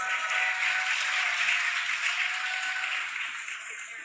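A crowd watching the SpaceX Dragon Freedom capsule return to Earth cheers and claps as a steady wash of distant applause that fades slightly toward the end.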